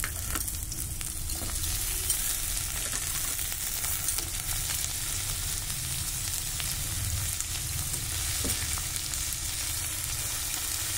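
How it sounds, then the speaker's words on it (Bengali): Diced potatoes and onion sizzling together in an oily pan, a steady, close crackle of frying that holds evenly throughout with no voices. "পেঁয়াজটা যখন একটু ভাজা ভাজা হয়ে এসছে, তখন আমি দিয়ে দেবো এর মধ্যে এই আলু কুচিগুলো।"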